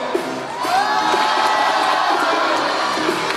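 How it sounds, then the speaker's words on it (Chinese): A crowd at a b-boy dance battle roars with cheers and whoops, loud and sustained after a brief quieter moment at the start. "所以我们再次最大的掌声，最牛逼的送给我们韩国的 Eagle 先生。"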